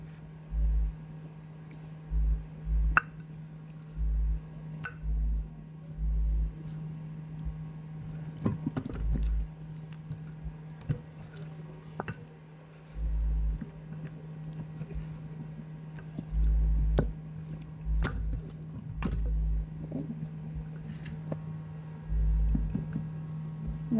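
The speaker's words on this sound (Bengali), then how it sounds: "এখন এটা সুন্দর মতো মশলাটা মাখিয়ে নেব" Chicken pieces being rubbed and mixed with masala spice paste by hand, giving soft intermittent squishing and wet clicking sounds close up over a steady low hum, with no talking.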